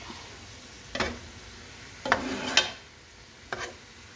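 Kimchi fried rice with luncheon meat being stirred in a pan: a few separate spoon scrapes and clacks against the pan over a quiet sizzle, spaced out and fairly faint.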